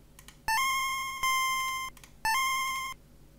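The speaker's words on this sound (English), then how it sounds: "So we will just make the typical vibrato sound." A vibrato chiptune tone programmed in the GB Studio music editor plays as three bright, buzzy synth notes, each held under a second with short gaps between them. It is clear and alone.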